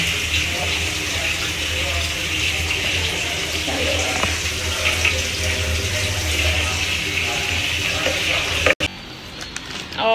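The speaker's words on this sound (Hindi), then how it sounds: "यहाँ पर मम्मा आलू फ्राई कर रहे हैं।" Potatoes frying in a pan on a home kitchen stove give a steady, continuous sizzle close by, with a brief clatter near the end.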